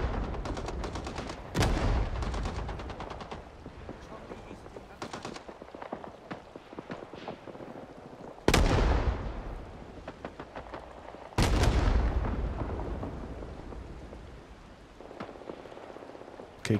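Gunfire in the Vietnam War shooter Rising Storm 2: Vietnam, with dense rattling machine-gun bursts through woods and three loud nearby blasts standing out, a soft voice faintly underneath.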